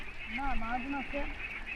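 Ducks on a riverside duck farm in Bangladesh give a few close, honking quacks in a short run, heard over a steady background hiss with no talking.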